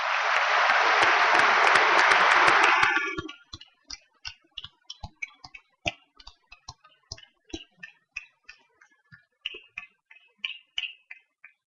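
Applause for graduates at a university engineering commencement: a dense burst of crowd clapping that cuts off abruptly, followed by scattered individual claps continuing alone.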